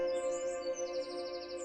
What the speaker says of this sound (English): The song of birds, the hum of life awakening.